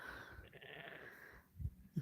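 Sheep and lambs on a homestead, a flock of ewes with their young, give a couple of short bleats near the end over steady outdoor background noise.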